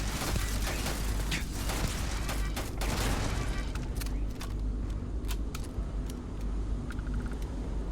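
An automated turret in the sci-fi game Starfield: Shattered Space fires a rapid, clattering string of metallic shots over a constant low rumble, steady and fairly close throughout.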